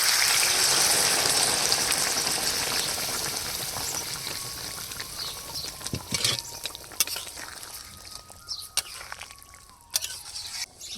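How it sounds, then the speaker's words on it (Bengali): Hot water pours into a pot of nearly boiled potatoes as a loud rushing splash, which fades into lighter bubbling with scattered clinks and drips near the end. "আমার আলুগুলো প্রায় সিদ্ধ হয়ে গেছে এবার গরম জল দিয়ে দেবো"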